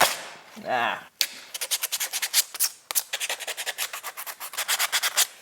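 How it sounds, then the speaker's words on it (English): A wooden piece is hand-sanded with 150 grit sandpaper in a home workshop. The sanding comes as rapid, rhythmic rasping strokes, close and loud, after a short scrape at the start. "Now we're gonna sand it, touch, just to get everything evened out."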